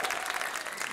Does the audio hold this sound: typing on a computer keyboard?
no